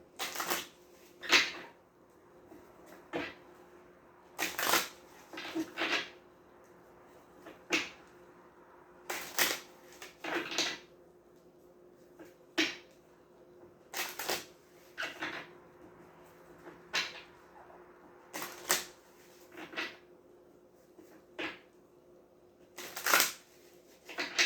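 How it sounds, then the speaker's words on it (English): Tarot cards are shuffled over and over in quick riffling bursts, separated by short pauses, close by in an otherwise quiet room. "One more shuffle."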